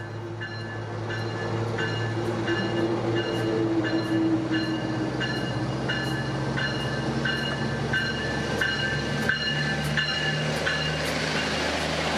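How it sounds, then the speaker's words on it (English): A Sonoma Marin Area Rail Transit commuter train rolls steadily past Novato Station at close range, a continuous rumble with rhythmic wheel clicks and thin metallic squeals ringing above it. "This is the only train that came by while I was at Novato Station."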